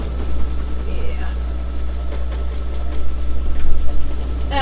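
An embroidery machine stitches on a hard-to-hoop item with a steady, buzzing mechanical drone that swells slightly toward the end, running under a person talking.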